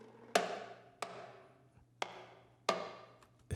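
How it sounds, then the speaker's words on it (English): Orchestral drum hits, four loud struck booms spaced about a second apart, each with a bright sharp attack and a long ringing decay, over a low steady hum, in a remade electronic track. "Essentially what I think this is some sort of orchestral drum"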